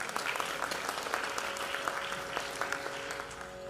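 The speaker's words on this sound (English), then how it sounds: "Give another round of applause for Millie" An audience claps after a Bharatanatyam dance debut recital, producing a moderately faint, steady patter of individual claps throughout.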